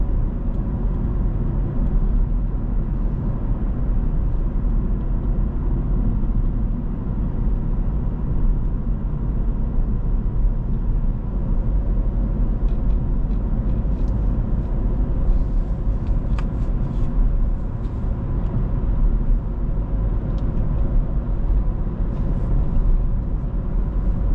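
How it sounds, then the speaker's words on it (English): A steady, loud engine drone from inside a moving car, a continuous low rumble with road noise and no pauses. "if you can hear my car, yeah, she's burning."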